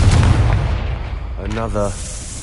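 The Confringo fire spell in Hogwarts Legacy lands with a loud, booming blast that decays over the first second. A short voice follows soon after.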